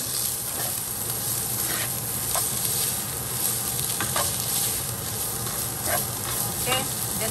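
Shrimp sizzling and frying in a pan, a steady crackling hiss that runs throughout, with scattered stirring scrapes and faint background noise.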